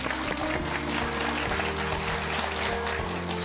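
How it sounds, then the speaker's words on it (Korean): Audience applause for a professor after a talk on architecture: a steady, dense wash of clapping hands at moderate volume over a low background hum, lasting the whole stretch. "이현준 교수님께 큰 박수 부탁드립니다"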